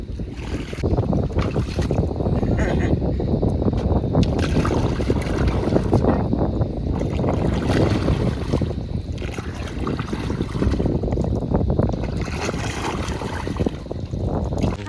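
An oru canoe is paddled across a lake near Habarana, with wet paddle strokes and sloshing water under constant heavy wind buffeting on the microphone, loud and close, with no talking.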